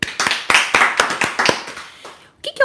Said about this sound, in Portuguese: palmas para você